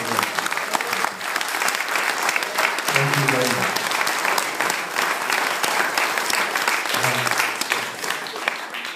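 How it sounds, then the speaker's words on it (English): Wedding guests break into a sustained round of applause, thick clapping throughout, while a voice briefly speaks over it twice. "So could you give her a round of applause?"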